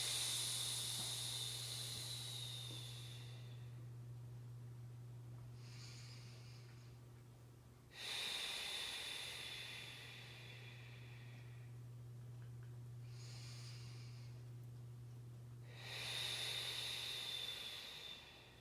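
Long, forceful breathy exhales during a core breathing exercise, three loud hissing breaths spaced several seconds apart with quieter intakes between, close and alone over a steady low hum.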